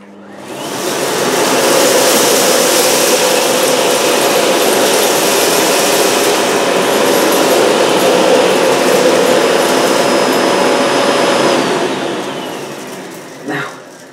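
A Miele Blizzard CX1 bagless vacuum cleaner with an Ecotec Plus head on its hard floor setting runs at maximum power on a hard floor, a loud continuous whooshing roar that starts up, holds steady, then winds down near the end.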